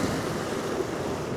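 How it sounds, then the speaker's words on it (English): Ocean waves crash and wash over coastal rocks with a steady, broadband roar of surf. Wind noise buffets the microphone throughout, and the sound stays loud and close for the whole stretch. "I'll get that wave as it crashes out the back"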